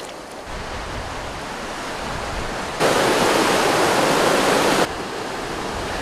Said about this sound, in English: Well, this is just a raging rapid.